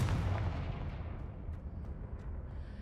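A Confringo explosive spell cast in Hogwarts Legacy, a heavy booming blast that rolls out into a long low rumble and fades, with no voices over it.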